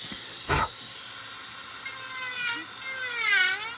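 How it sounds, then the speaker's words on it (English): A micromotor rotary tool with a burr carves basswood, a steady high whine with rising and falling pitch as the burr bites the wood, close and continuous, with a brief louder burst early on. "I use my micromotor just like I use a knife"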